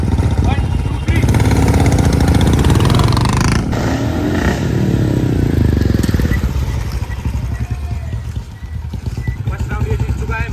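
A new Royal Enfield Bullet 350 BS6 and an old Bullet Standard roar off in a drag race, loud engine revving and thumping close by, with voices talking over the din.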